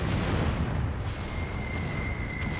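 Bombing-run explosions in the VR strategy game Final Assault VR roll together into a dense, continuous booming rumble, loud and steady throughout with no talking.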